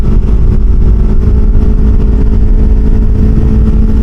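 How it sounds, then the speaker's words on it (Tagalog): A CFMOTO 700CL-X Sport motorcycle engine drones loudly and steadily throughout while being ridden, a continuous close-up rumble with no talking. "Ang motor nga pala is 700 CLX Sport."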